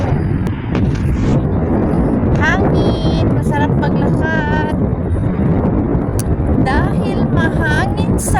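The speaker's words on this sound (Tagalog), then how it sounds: "mahangin sa labas." Strong wind buffets an outdoor microphone near a parking area, a constant loud roar and rumble, while people talk over it the whole time.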